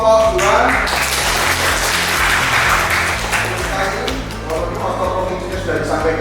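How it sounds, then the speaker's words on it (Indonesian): A group applauds a presenting team during a classroom teaching assessment, with dense, loud clapping throughout and voices mixed into it. "Tepuk tangan untuk kelompok 2."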